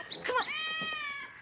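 A cat lets out a drawn-out, wavering meow, loud and close, following a brief higher chirp, with no talk over it.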